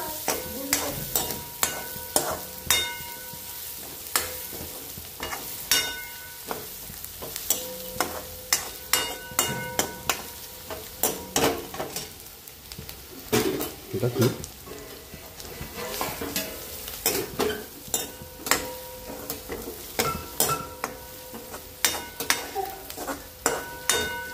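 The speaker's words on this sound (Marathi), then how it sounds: "त्यामध्ये कांदा टाकून घेऊया। कांदा चांगला लाल होऊ द्यायचा।" Onions fry in a pan with a continuous sizzle, punctuated by frequent sharp scrapes and clanks of a spatula stirring against the metal, close and busy throughout.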